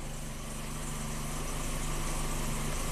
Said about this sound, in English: It's idling.